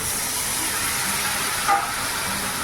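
Water poured into a hot pan of frying potatoes with black cumin gives a continuous loud hiss, close and unbroken, rising briefly in the middle before settling back.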